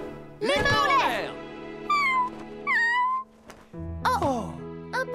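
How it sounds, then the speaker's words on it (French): A tiny hungry cartoon cat meows several times in high, wavering cries, loud and close, with short pauses between the calls. "Tout ce tintamarre n'était dû qu'à un tout petit chat affamé."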